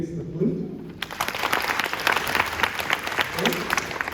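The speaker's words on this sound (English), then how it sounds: "Clap if you think it's the flute" After a brief voice, an audience at a children's concert starts clapping to vote for the flute, a lively spread of claps that keeps going with some chatter mixed in.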